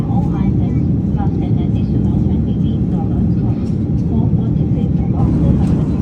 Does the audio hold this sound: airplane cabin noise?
yes